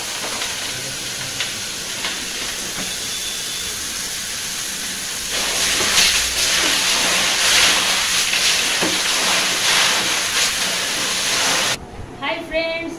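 Dirty water pours out of aquarium stones being washed, a continuous broadband hiss that swells louder and splashier midway and stops abruptly near the end.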